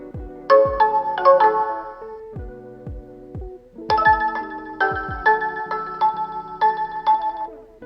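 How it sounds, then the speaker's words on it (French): A Somfy home alarm siren being tested through its different sounds, playing bright chime-like melodic tone sequences in two bursts separated by a brief pause, loud and close. "tester les différents sons de la sirène"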